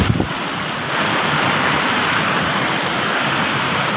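Monsoon floodwater rushing over a village bridge during heavy rain, a steady loud roar of churning water with wind noise, continuous and close, with no talk.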